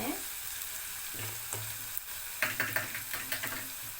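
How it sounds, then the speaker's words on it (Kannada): Ivy gourd (tondekai) frying in oil with masala, a soft continuous sizzle broken by a run of quick scraping clicks from a spatula stirring the pan. "ಈಗ ಸ್ವಲ್ಪ ಹೊತ್ತು ಇದೇ ಎಣ್ಣೆಯಲ್ಲಿ ಈ ಮಸಾಲೆ ಜೊತೆ ಫ್ರೈ ಆಗಿದೆ"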